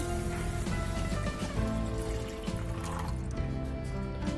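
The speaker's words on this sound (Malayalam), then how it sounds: "1 മിനിറ്റിന് ശേഷം ഇതിലേക്ക് വെള്ളം ചേർത്ത് കൊടുക്കാം. 1 കപ്പ് വെള്ളമാണ് ചേർത്ത് കൊടുക്കുന്നത്." A cup of water goes into a pan of Kerala pepper fish curry masala, giving a steady splashing pour that stays even and fairly loud throughout, with no talking.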